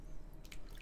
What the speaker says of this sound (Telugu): ఫోన్ వాటర్లోకి వేసేసాను